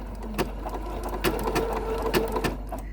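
A sewing machine stitches a mug rug at a slow, steady pace, making a continuous close hum with regular needle clicks and a low motor drone underneath.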